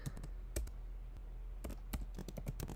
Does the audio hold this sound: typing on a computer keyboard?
yes